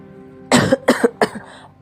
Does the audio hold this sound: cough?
yes